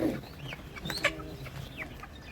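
Coloured broiler chickens cluck and squawk close by in short, irregular bursts over a low background hum.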